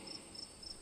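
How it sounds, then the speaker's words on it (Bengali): Crickets in the jungle beside a deserted village road chirp faintly in three short, evenly spaced high trills over a quiet, steady background. "ক্রমাগত ঝিঝি পোকার ডাক শুনতে পাচ্ছি।"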